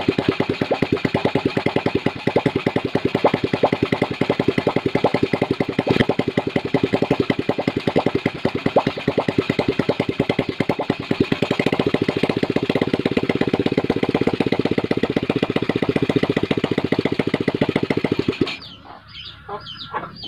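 A motorcycle engine started without a battery on improvised wiring runs steadily at a loud, rapid idle close by for most of the clip, then cuts off near the end.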